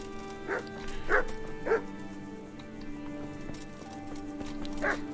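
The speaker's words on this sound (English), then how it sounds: "that dog scared me a little bit for a second." A dog barks in the video game Kingdom Come: Deliverance, with four or five sharp barks spaced irregularly over a steady ambient bed of game noise and faint hoof-like clopping.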